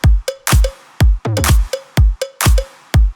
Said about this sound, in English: I'm adding clap sound, ambient clap that sounds like this.